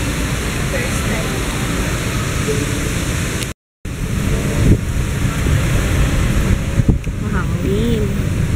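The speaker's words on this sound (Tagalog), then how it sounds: "Mahangin." Strong outdoor wind roars and buffets the microphone in a steady wash of noise during a visit to a fan event in the Philippines, with one short dropout. Faint voices sit underneath.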